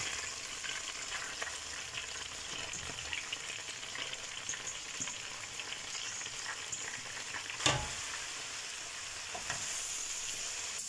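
Spinach frying in a pan, a continuous close sizzle with scattered stirring scrapes and one sharper clatter partway through.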